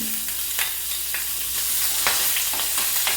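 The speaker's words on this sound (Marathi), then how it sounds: "कढीपत्ता घातला तेव्हा एकदम सगळं तडतड असं सगळं फोडणी उडायला लागली" Curry leaves and chilli crackle and spit in hot tempering oil on a stove, a steady close sizzle broken by sharp popping bursts, with no talking.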